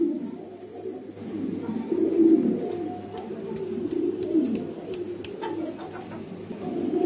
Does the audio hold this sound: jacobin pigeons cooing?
yes